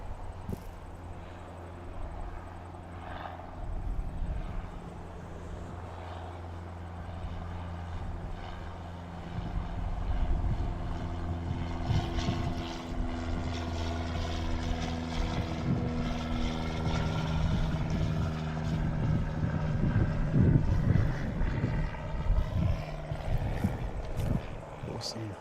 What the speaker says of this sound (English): It's the Aero Club Cessna taking off.